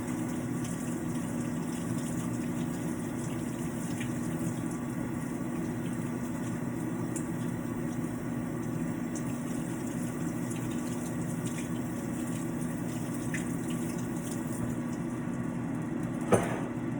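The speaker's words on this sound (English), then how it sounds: "Okay, I'm gonna go ahead and wash my hands" Tap water runs steadily for hand washing in a home kitchen while bacon-wrapped jalapeños are being made, a continuous close rushing flow with one brief knock near the end.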